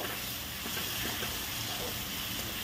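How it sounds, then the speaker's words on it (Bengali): Chopped onions with a little salt frying over high gas flame in a pan, a constant broad hissing sizzle, fairly quiet and steady with no talk. "এবার আমি এতে কুচিয়ে রাখা পেঁয়াজ দিয়ে অল্প একটু নুন দিয়ে পেঁয়াজ কুচিগুলি লাল করে ভেজে নেব।"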